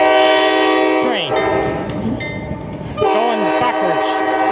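A train running in reverse sounds its horn in loud, sustained blasts, one at the start and another about three seconds later, with rumbling rail noise in between and faint talk nearby.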